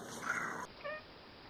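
A pet cat gives a short, fairly close meow, followed by a faint chirpy call and then a brief sharp noise at the very end, with no talking over it.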